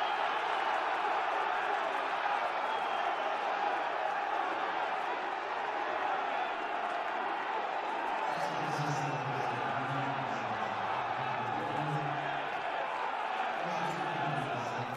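Alemannia Aachen fans in a stadium roar and cheer after a goal against Rot-Weiss Ahlen in a regional league match, a sustained wash of crowd noise, with a commentator's voice faintly over it.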